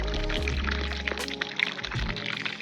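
Water runs steadily from a tap into a container, gurgling and splashing close by, the pitch shifting as it fills.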